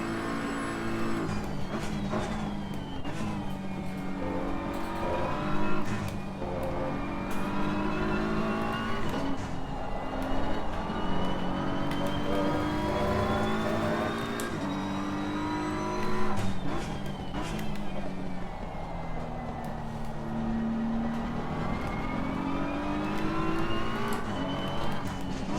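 A BMW M4 GT3 race car in Assetto Corsa Competizione runs flat out at Kyalami, its engine a loud, steady, continuous roar with shifting pitch as it changes gear, with no voices over it.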